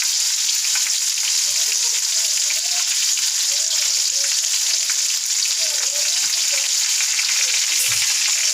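Stuffed bitter gourds fry in a pan with a steady, loud broadband sizzle and crackle throughout, a few faint low clunks underneath and no talking.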